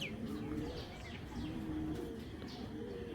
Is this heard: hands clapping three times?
no